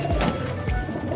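A Captan pigeon coos in low, throaty pulses close by, set against a busy background of other birds and room noise.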